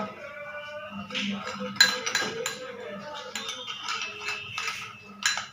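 A spoon mixes beetroot and rice flour face pack in a small bowl, giving light clinks and scraping taps against the dish in an irregular rhythm, close and fairly quiet.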